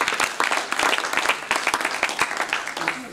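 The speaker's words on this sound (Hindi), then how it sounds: "एक बार सर के लिए ज़ोरदार तालियां।" An audience applauds a speaker at a talk on assistive technologies for people with visual disabilities, giving a brisk burst of clapping with distinct individual claps, fairly close and loud throughout.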